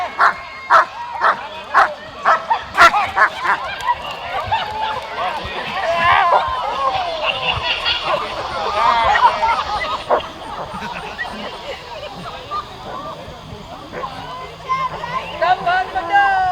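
A dog barks and yips in sharp bursts, then whimpers and whines near a bear, with excited voices talking over much of it.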